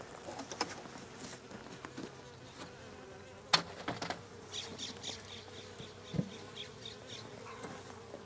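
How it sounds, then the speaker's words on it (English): Honeybees buzz in faint, wavering bursts from an opened hive, with scattered soft taps and clicks nearby and no voices. "See, there's some bees."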